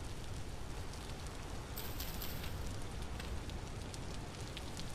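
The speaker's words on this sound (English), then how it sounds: "it's raining right now" Steady rain falls in the Vintage Story game world, a dense continuous hiss of drops on surfaces with a brief brighter patch of spatter partway through, with no talking.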